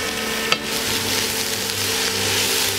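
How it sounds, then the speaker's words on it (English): Onions sizzle loudly in a hot frying pan as they are stirred, a steady crackling hiss throughout with one sharp clink of the utensil against the pan near the start. "Okay, half of the sibuyas goes in. Let's mix it a little bit."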